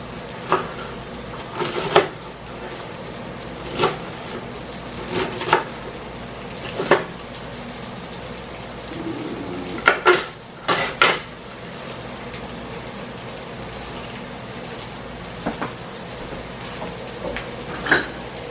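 Kitchen work while cooking cabbage and leeks: sharp knife knocks and utensil clinks against a pan ring out at irregular intervals over a steady low background of stirring, close and moderately loud, with no talking.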